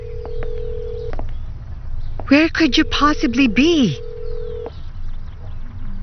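Telephone ringing unanswered, a steady electronic tone broken into repeated buzzing bursts, close and clear, while someone speaks over part of it.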